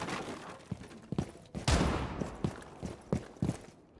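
Gunfire in Rainbow Six Siege comes as a rapid series of sharp shots and short bursts, one heavy blast near the middle, moderately loud with no talk over it.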